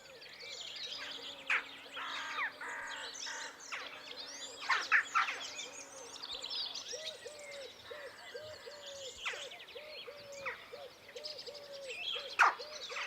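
Jackdaws nesting around a house chimney call over and over, sharp chirping notes mixed with a run of lower, evenly repeated hooting calls, fairly close and moderately loud.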